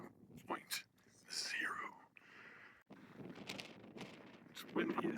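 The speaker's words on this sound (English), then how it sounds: "It's windy as hell up here" Gusty wind buffeting the microphone at the Grand View overlook in Canyonlands, rising and falling in loud rushes around a person talking.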